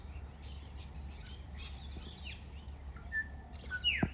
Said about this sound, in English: It's like a little cuckoo.